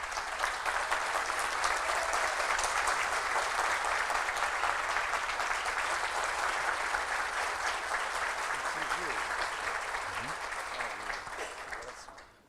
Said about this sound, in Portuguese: pedir para eles uma salva de palmas